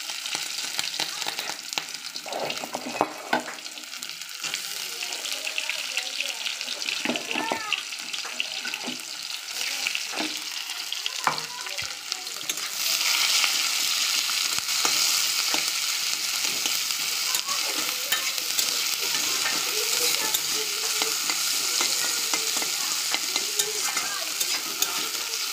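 Onion fries in oil with whole cumin in a pan, a steady close sizzle with scraping stir strokes, growing louder and brighter about halfway through, with no talk.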